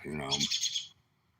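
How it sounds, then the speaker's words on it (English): A single bird call rings out close by outdoors, a brief bright chirping burst that fades quickly into quiet. "That bird was close."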